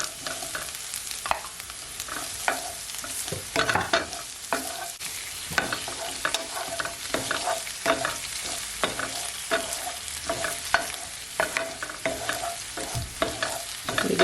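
Smoked sausage fries in a pan for a Cajun chicken and shrimp pasta, with a steady sizzle under repeated scraping and stirring strokes from a utensil, close and moderately loud.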